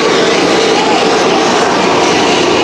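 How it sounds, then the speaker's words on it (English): A freight train rolls past near a high school football field, a loud, steady, broadband rumbling roar that fills the whole stretch without a break. "If we can keep that train over there, it may make it hard for them to hear on that sideline"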